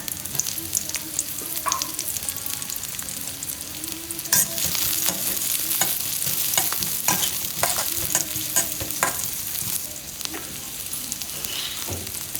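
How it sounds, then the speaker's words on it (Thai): Sliced onions sizzle steadily in hot oil in a wok while a utensil scrapes and stirs against the pan in frequent clicks and scrapes, close and continuous. "ใส่หอมใหญ่ลงไปผัดก่อนค่ะ"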